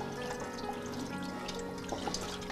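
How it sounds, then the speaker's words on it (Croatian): Whey drips and trickles from fresh škripavac cheese curd as it is squeezed by hand on a farm, a soft, steady wet patter with small splashes close by, no talking. "Ovo moramo čim više istisnuti ovu vodu van."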